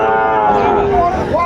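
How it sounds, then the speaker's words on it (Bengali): A Sahiwal bull calf at a Dinajpur cattle market lets out one long, loud, close moo that rises and bends in pitch, with faint crowd murmur underneath. "শাহিওয়ালের ষাঁড় বাচ্চা"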